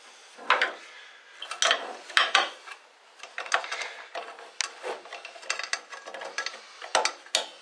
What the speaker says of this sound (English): So let's grab our wire cutters here. Go ahead and trim these wires and that way disconnect that.